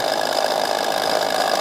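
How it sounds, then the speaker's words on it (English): A Lennox pulse furnace blower runs steadily, a constant whooshing whir with a humming tone that holds evenly and fairly loud throughout, with no breaks or voices. "first it turns on the blower for a while to make sure there's enough oxygen in there"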